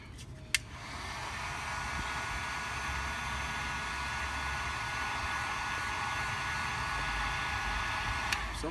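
A heat gun blows a steady, loud, hissing roar while heating a vehicle badge to loosen it, holding constant for several seconds, with a faint click near the start.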